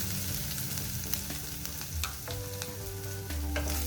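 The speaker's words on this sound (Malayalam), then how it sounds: "ഇനി ഇതിലോട്ട് 1 കപ്പ് തേങ്ങ ചിരകിയത് ഇട്ട് കൊടുക്കാം." Grated coconut roasts in a pan with raisins, a continuous close sizzle broken by scraping stirs and clinks of a spoon against the metal, no voices.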